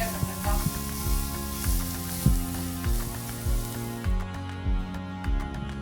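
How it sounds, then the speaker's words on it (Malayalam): Soybeans frying in hot oil in a pan, a constant sizzle broken by rhythmic clunks and scrapes of stirring roughly every half second, close up with no voices. "ഇപ്പം ഞാൻ ചട്ടിയിൽ എണ്ണ ഒഴിച്ച് നല്ലോണം ഫ്രൈ"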